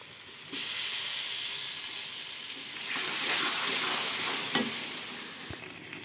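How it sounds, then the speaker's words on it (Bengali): Boiled olives are stirred into hot oil in a frying pan for pickle, setting off a bright hissing sizzle that swells in the middle with scraping strokes and a few soft knocks of the spoon, then fades. "এখন আমি এর মধ্যে এই যে সিদ্ধ করে রাখা জলপাইগুলো দিয়ে নাড়াচাড়া করব"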